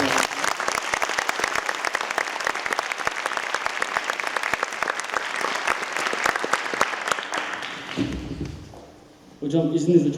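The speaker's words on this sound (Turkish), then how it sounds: "kocaman bir alkış" An audience at a stage talk applauds its guest, a dense, sustained round of many hands for about eight seconds that fades out before a voice begins speaking close by.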